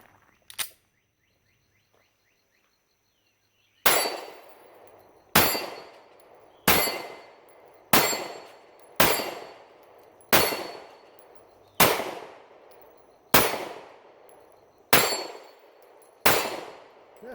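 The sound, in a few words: Ruger SR9C pistol shots ringing steel target plates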